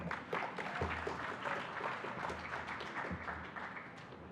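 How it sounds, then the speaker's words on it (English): Conference audience applause for a speaker on a talk about technology improving African lives, heard as a faint, steady patter of many hands clapping at a distance throughout. "Please give him a round of applause."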